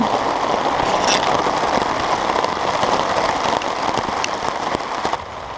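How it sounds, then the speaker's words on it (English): Torrential rain pounds down at a campsite in a dense, continuous hiss with scattered sharper drop hits, loud and steady throughout, no voices. "There's no way I can walk in this. That is torrential."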